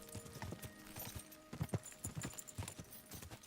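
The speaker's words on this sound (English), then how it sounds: "I'm just leaving my horse, leaving Pebbles out on the road" Horse hooves clip-clopping on a road in Kingdom Come: Deliverance II, a steady run of close, distinct hoof strikes with faint background ambience and no talk.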